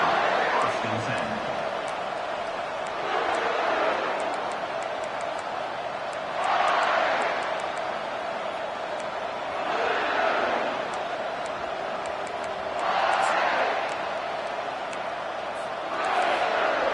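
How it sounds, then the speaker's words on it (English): A large crowd at an Auburn college football game roars in repeated swells every few seconds, each surge loud and broad before easing back to a steady stadium din, with a commentator talking over it. "It's early, but this crowd is fired up. Listen to this noise here."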